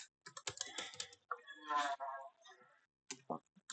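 Commands typed on a computer keyboard while running a React dev server, heard as quick bursts of close key clicks in irregular clusters with pauses between them.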